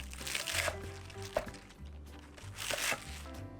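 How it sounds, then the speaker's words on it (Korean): Green onions roughly chopped with a knife on a board, a few separate crunchy cuts with crinkly rustling in between, close and fairly quiet. "이제 쪽파 1 0 뿌리를 듬성듬성 썰어줍니다"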